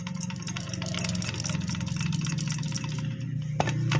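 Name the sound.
Toto Crown e-rickshaw gearbox making a slight noise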